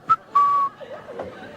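A narrator whistles in imitation of a woman whistling: a short chirp, then a longer steady held note, followed by softer wavering whistled tones, close and alone.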